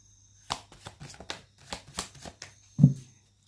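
Tarot cards being shuffled during a reading, a run of quick papery riffles and flutters with short pauses, ending in a louder soft thump as the deck is squared, no talk over it.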